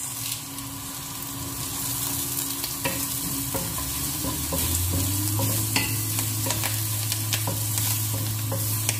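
Curry leaves fry in hot oil for a prawn and green mango curry, a steady close sizzle broken by scraping stirs of a spatula in the pan, with no voices.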